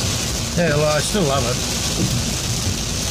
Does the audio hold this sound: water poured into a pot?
no